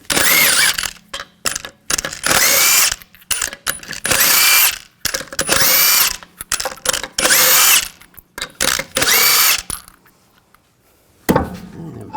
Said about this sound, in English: Take the lug nuts off.